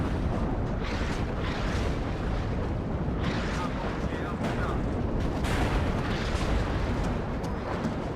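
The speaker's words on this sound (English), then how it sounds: "There's just a lot of explosions going on right now." Dense, continuous barrage of artillery and rocket explosions from a large 10v10 WARNO battle with Danish forces, booming and rumbling without pause, loud throughout with layered blasts and crackling fire.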